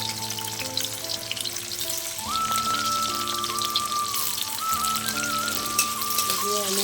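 Chopped onion frying in hot oil alongside ginger for egg chowmein, giving a continuous close sizzle and spatter over a low steady hum with faint tonal notes in the background.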